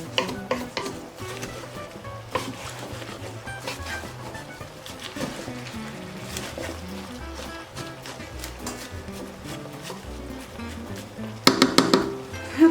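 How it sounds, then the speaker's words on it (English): Chopped vegetables browning in a soup pot, a steady sizzle with stirring clatter throughout and a louder burst of utensil scraping near the end. "let all of this cook"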